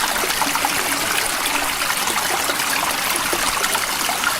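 Water gushes steadily from a motor pump outdoors, a loud, continuous rushing splash that stays even and close throughout.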